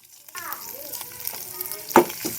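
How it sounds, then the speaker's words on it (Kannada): Green chillies fry in a hot pan for a spinach palya, a steady sizzle with stirring scrapes and one sharp clatter near the end, while a voice murmurs in the background. "ಚಂದಾಗ ಫ್ರೈ ಮಾಡತ್ತೀನಿ ರೀ ಅದಕ್ಕೆ ಮೆಣಸಿನ್ಕಾಯಿ ಚಂದ ಫ್ರೈ ಆಗ್ಬೇಕು"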